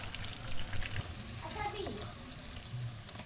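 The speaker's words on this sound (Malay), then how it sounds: "Ini yang tengah goreng." Banana fritters frying in oil, a steady close crackle and bubbling sizzle running throughout, with faint voices nearby.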